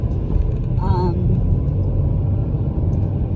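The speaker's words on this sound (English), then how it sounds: "I'm currently driving to my appointment" A car on the road gives a steady, loud rumble throughout. A brief tonal chirp near the start sits over the continuous engine and road noise.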